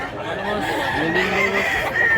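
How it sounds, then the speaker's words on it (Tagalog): A Golden Boy gamecock rooster clucks and calls loudly and close by, a short run of throaty crowing notes over faint background noise. "Wapong manok."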